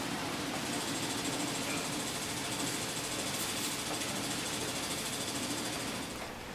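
A multi-head embroidery machine sews a satin stitch, giving a dense, continuous mechanical chatter and hum with a fast, steady rhythm and no talking, fading slightly at the very end.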